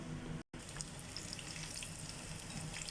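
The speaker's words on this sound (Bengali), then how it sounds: "আলুগুলো একটু ফ্রাই করে দিলাম" Potatoes frying in a pan of oil, a steady broadband sizzle that runs almost throughout, broken only by a brief dropout near the start, with faint clinks from the cookware.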